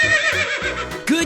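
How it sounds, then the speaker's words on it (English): Loud, close horse neigh from a 3D animal slide video game, a bright whinny with wavering pitch lasting about a second, ending in a rising snort-like call. "Horse."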